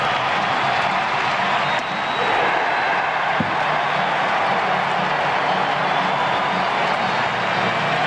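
A baseball stadium crowd at a 1999 Pirates–Mets game roars and applauds after an inning-ending strikeout, a dense, sustained wash of cheering and clapping that stays loud throughout.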